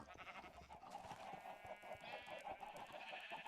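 Sheep in Minecraft bleat repeatedly in short, overlapping calls against a steady game background, fairly close and at moderate volume throughout.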